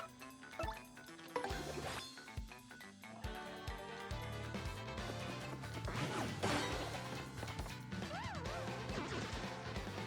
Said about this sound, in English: Sound effect for hammer is same from the Origami King